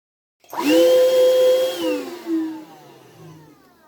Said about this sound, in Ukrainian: Вийшов чудовий автономний сервісний пилосос.